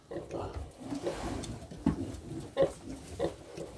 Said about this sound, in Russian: вот они кушают кабасики и свинки